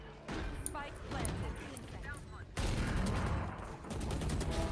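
Gunfire in the tactical shooter Valorant, a rapid burst of shots followed by more dense firing, loud and close, with a voice talking over it at times.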